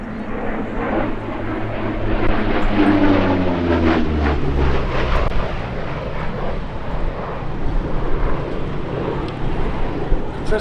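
A P-38 Lightning twin-engine fighter roars past in a flying display at an airshow, loud and steady with a rising and falling engine drone that pans through the full clip.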